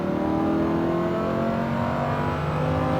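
A Lamborghini Huracan accelerates with a loud, steady engine drone that holds close and continuous for a few seconds, with no talk over it.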